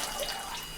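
Water rushes steadily through newly connected saltwater aquarium return and drain plumbing, a continuous close hiss and splash with no voices over it.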